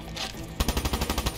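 Gunfire from a shotgun in the video game Call of Duty Black Ops 3: after a quiet stretch, a loud, rapid string of about eight punchy shots rings out in quick succession.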